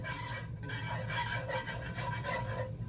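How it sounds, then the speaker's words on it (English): A utensil stirring flour into a cream sauce in a pan, a continuous close raspy scraping and rubbing with a rhythmic back-and-forth motion, faint and alone. "We are just going to stir this and let that flour cook through for about a minute."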